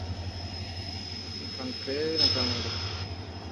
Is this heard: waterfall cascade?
no